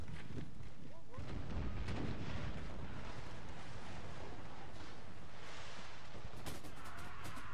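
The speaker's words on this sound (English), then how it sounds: "here comes the opening barrage" Artillery barrage in an American Civil War battle video game: rumbling booms and crackling blasts roll across a noisy battlefield bed, with a burst of sharper reports near the end.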